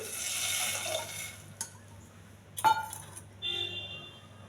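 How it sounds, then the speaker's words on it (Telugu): A glass of water is poured into a pressure cooker with quinoa and moong dal: water trickles and splashes, then stops; a few sharp clinks of glass follow, and a steady low hum runs underneath. "ఒక గ్లాస్ వాటర్ అండి."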